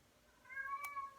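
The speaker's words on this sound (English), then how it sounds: "you listen to my cat meowing" A single short cat meow, fairly faint and close, rising and falling briefly over quiet room tone.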